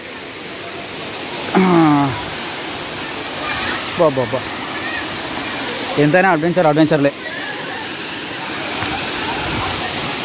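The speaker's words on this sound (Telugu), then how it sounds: "లోకల్ వాటర్ఫాల్ ఇది, బ్యూటిఫుల్గా ఉంటుంది." The local Vasthapur waterfall near Nirmal flows with a constant, moderately loud rush of water, while people talk over it in short bursts.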